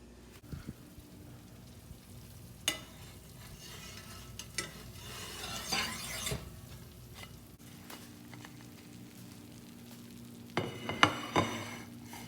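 Food sizzles steadily in a pan, with scattered louder crackles and a few clanks of a utensil stirring, no voices.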